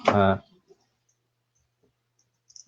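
A person briefly speaks, then a few sparse, faint keyboard keystrokes click through otherwise quiet room tone.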